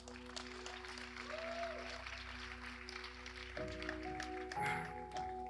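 A church congregation applauds, with soft, fairly distant clapping mixed with a sustained musical tone and some murmuring voices in the background.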